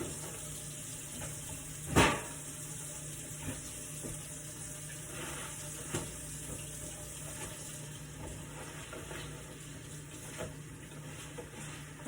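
Running tap water pours steadily into a sink while fresh spinach leaves are rinsed, a constant close splashing with an occasional louder knock.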